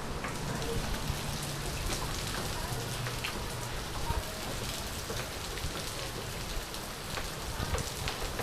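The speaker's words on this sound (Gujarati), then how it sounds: "ગજબ વરસાદ પડે ભાઈ, ગજબ" Heavy rain pours steadily and densely, a constant loud broadband hiss with scattered drop impacts, no voices.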